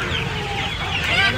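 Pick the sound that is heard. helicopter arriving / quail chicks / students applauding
quail chicks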